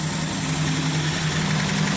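A Datsun 280Z engine idles loudly and steadily without its exhaust fitted, with a deep, raw rumble and constant mechanical hum.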